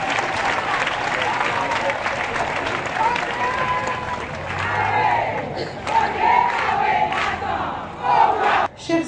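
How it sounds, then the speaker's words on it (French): An audience at a meeting with Beninese women who benefit from microfinance breaks into loud, sustained applause, mixed with cheers and shouting voices. "Je vous demande de les applaudir bien fort."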